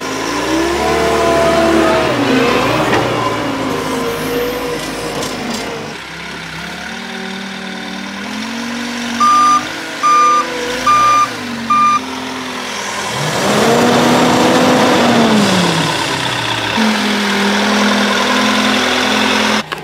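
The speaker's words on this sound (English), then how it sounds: "I'll get the loader and we'll move this out of the way" A diesel loader engine idles and revs while moving a large rotten log, with a short series of four evenly spaced reversing beeps sounding over the engine midway, close and loud.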